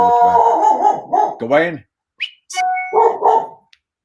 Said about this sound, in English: I guess your dog didn't like the cage